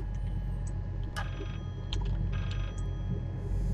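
Low telephone ringing tone in the horror game Layers of Fear, with intermittent ring bursts above a heavy, rumbling drone that persists throughout.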